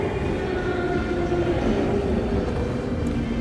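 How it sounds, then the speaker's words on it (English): A Montreal Metro subway train during a rush-hour ride, with a steady loud rumble and rolling noise inside the car, continuous throughout and without talking. "it is rare that I film during rush hour metro rides"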